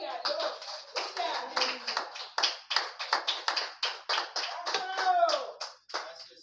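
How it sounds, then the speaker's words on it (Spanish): Congregation clapping in rhythm during a church service, a steady run of sharp hand claps close by with some voices mixed in. "Vamos a darle un aplauso al Señor."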